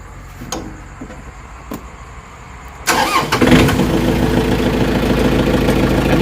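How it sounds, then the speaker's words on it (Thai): A few faint clicks, then a Yanmar EF494T tractor engine cranks and catches, settling into a loud, steady low rumble of idling close by. "เดี๋ยวเรามาลองฟังเสียงเครื่องยนต์กันดูนะครับ"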